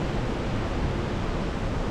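Waterfalls roaring ahead of a seating area in Solang Valley, a steady, dense broadband rush with no breaks, close and loud, no voices over it.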